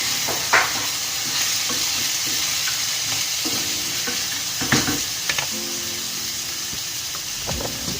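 Four eggs fry in a pan with potato adobo, a constant close sizzle and hiss broken by several sharp scraping stirs and utensil knocks.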